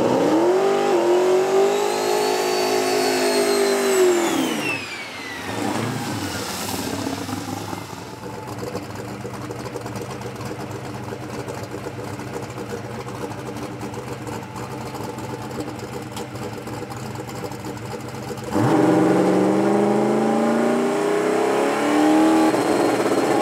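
Drag race car engine, a close, loud rev that climbs and drops, then a long steady idle drone, then another sharp rev near the end.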